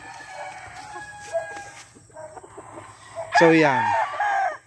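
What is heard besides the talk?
Boston White chicken, a hen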